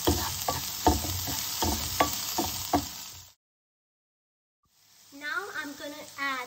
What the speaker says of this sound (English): And I'll just add a bit of coriander and green chili and give a good stir.